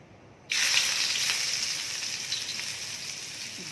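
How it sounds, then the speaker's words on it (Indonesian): Garlic and ginger hit hot oil with an abrupt loud hiss that settles into a steady, gradually easing sizzle, close and alone. "kita masukkan dulu bawang putih dengan halia"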